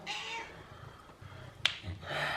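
A house cat meows indoors, with a short cry at the start and another near the end, plus a sharp snap-like click between them.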